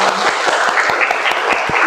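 A group of people in an Indonesian classroom lesson on prayer etiquette claps together in a rhythmic burst of applause, steady and close, with no talking over it.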